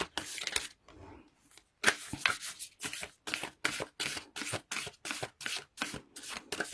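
A Whispers of Love oracle card deck being shuffled by hand, a close, rhythmic series of soft riffling bursts at an even pace.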